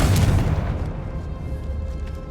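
A Confringo fire spell bursts in Hogwarts Legacy with a loud, close boom whose rumble fades out over a couple of seconds, and nobody talks.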